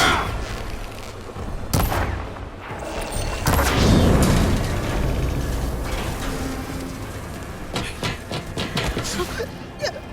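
Gunfire in the video game Horizon Forbidden West comes as sharp bangs and booming blasts amid clattering mechanical noise during a chaotic fight, with voices shouting over it.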